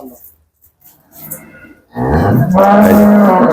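A young cow on a farm lets out one loud, close, drawn-out moo that fills the second half. Quieter shuffling and low background noise come before it.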